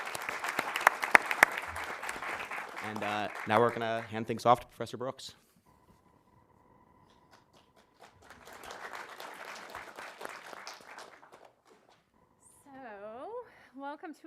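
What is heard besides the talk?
audience applause for comedy panelists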